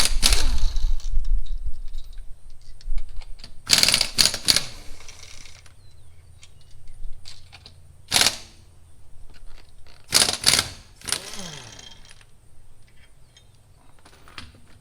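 A power tool works the rear wheel lug nuts off a car in short, sharp bursts of loud rattling impact, separated by quiet gaps and lighter mechanical clatter.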